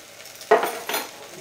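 Freshly ground ginger is stirred into golden brown onions sautéing in a pan, with two short scraping stirs over a low sizzle, close and fairly loud.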